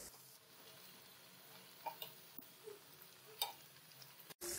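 Fish fillets fry in hot oil until crisp, a quiet, steady sizzle with a few soft scrapes and taps of a utensil in the pan, no voices.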